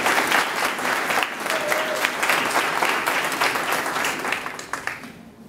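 A banquet audience at an annual FFA chapter dinner gives a sustained round of applause for the members, dense steady clapping from many hands that fades out at the end.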